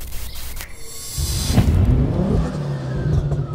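A Ford Focus RS with a K16 hybrid turbo revs up from a light idle into a loud, gruff surge that holds and pulses, close by.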